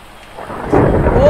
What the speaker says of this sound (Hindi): ओ वे बिजली कड़क रही है मेरा भाई